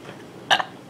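A single short burp erupts during a playful burping contest among girls, a brief raspy belch standing out clearly against quiet room background.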